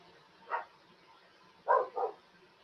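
Dogs barking a short distance off in a quiet home: one bark, a pause, then two quick barks in a row, moderately loud over faint background.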